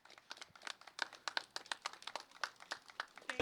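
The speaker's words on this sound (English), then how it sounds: "for all those who are clapping" A small audience at an outdoor media briefing claps in a thin, uneven patter of scattered hand claps, fairly faint and a little distant, lasting a few seconds.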